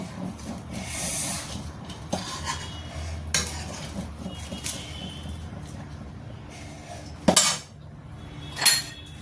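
A metal spoon stirs and scrapes a sticky jaggery sweet mixture in a pan, with soft rubbing strokes and a few sharp clinks against the metal, close and with no speech.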